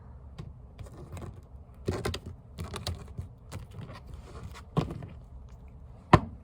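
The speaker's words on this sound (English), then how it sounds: "Let's cut the cards." Tarot cards are shuffled and cut by hand on a table, producing soft irregular taps and card slaps with a few sharper snaps, close and quiet, with no voice.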